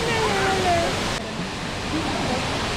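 Monsoon waterfall spray at Tamhini Ghat's Ring Waterfall pours as a loud, steady broadband rush close at hand, with faint whistling tones riding over it early on.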